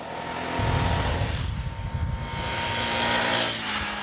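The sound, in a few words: Cagiva Gran Canyon motorcycle engine accelerating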